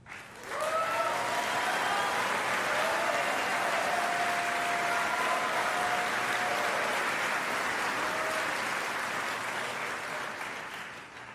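Sustained applause from a large audience at a Basketball Hall of Fame enshrinement ceremony, a dense even wash of clapping lasting around ten seconds before fading, with a few cheers and whistles rising above it.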